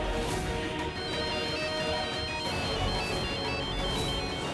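A telephone ringtone rings on continuously, a bright repeating electronic melody that stays loud and steady with no voices over it.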